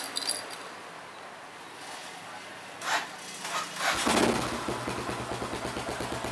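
A modified Yamaha Byson motorcycle is started and settles into idle, a quiet rhythmic low thumping close by after some faint handling noises, with a brief swell near the start of the engine.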